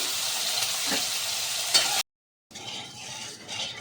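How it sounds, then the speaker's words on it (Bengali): Prawns fry lightly in hot white oil in a wok, a steady close sizzle with occasional stirring clinks, cut by a half-second gap of silence before the sizzling resumes. "চিংড়ি মাছগুলো হালকা করে ভেজে তুলে নেব"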